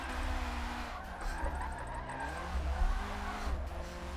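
Drifting car in a racing video game, the driver working the e-brake and clutch kicks, with a steady engine drone and wavering revs plus tire squeal running the whole way, rising briefly near the end.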